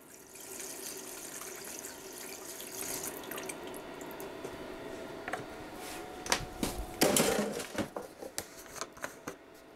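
91% isopropyl alcohol pours into a resin-print wash container, a trickling, splashing liquid stream that grows louder and more spattery toward the end, close by with no talking.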